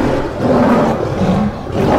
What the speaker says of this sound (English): the lion roars again.